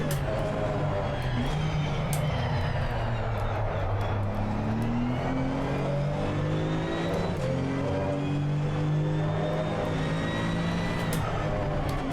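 A Porsche GT2 race car engine in the Assetto Corsa Competizione racing game revs loudly and continuously, its pitch climbing and falling through repeated gear changes, with no talking over it.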